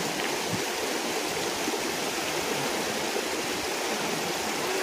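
A hillside stream in the Scottish outdoors, its water running straight off the slopes in a steady, close, full rush of splashing and churning that carries on unbroken with no voices.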